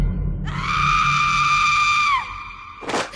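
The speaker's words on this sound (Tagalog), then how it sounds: "Biglang sumigaw si nanay." A woman lets out a sudden, loud, sustained scream that holds steady for nearly two seconds, then trails off before a brief harsh burst follows.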